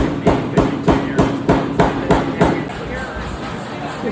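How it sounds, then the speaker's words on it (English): Rhythmic heavy blows from a Toyota power hammer striking metal on the floor of a forge factory, about eight evenly spaced loud thuds close by before the pounding stops, under faint background noise. "This is the Toyota hammer."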